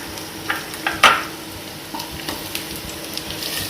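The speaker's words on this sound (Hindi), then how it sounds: "जैसे ही गर्म हो जाए प्याज को सौटे करने के लिए डाल दीजिए।" Onions sautéing in a hot pan, a soft steady sizzle with a few scattered utensil clinks and stirring scrapes, one sharper knock near the start.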